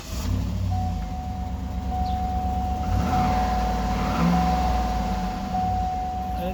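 A 2008 GMC Yukon's big GM engine cold-starts and settles into a steady deep idle, with a constant whine running above the rumble.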